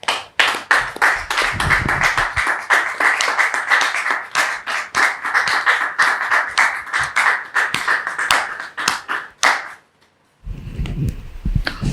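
A studio audience claps for a guest couple being welcomed onto a talk show set, dense continuous applause lasting about ten seconds, then cutting off to quieter room sound with low rumble.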